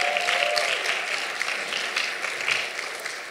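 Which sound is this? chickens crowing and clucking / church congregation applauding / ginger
church congregation applauding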